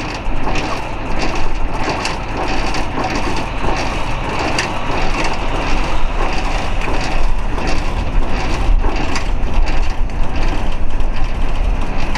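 Semi-trailer landing gear being cranked up by hand while a tractor-trailer is coupled, heard as a loud, continuous grinding and rattling mechanical churn with constant engine rumble underneath for about twelve seconds.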